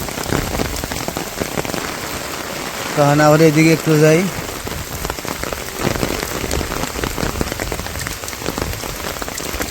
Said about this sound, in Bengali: এই বেলা কত বৃষ্টি হইলো